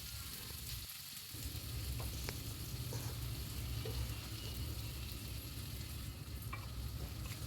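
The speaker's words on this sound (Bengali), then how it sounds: "এবার গ্যাসের ফ্লেম মিডিয়ামে রেখে পেঁয়াজটাকে ভেজে নেব" Onions frying in a pan over a medium gas flame, a steady dense sizzle with occasional stirring scrapes, close and continuous throughout.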